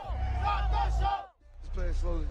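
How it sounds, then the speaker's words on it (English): A festival crowd at Astroworld Fest chants in unison, many voices shouting together in loud, rhythmic bursts with a brief dip between phrases. "In another video, the crowd appears to chant, "Stop the show.""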